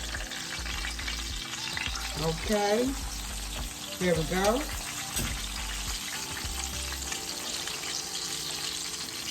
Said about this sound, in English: we're going to fry this fish on one side for 4 minutes